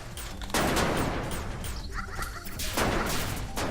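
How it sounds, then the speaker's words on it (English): A bunny gun fires in the video game Copy Kitty, loud bursts of rapid shots and crashing impacts in two clusters separated by a brief lull, with chirpy electronic tones sounding between them and no talking. "Am I shooting bunnies?"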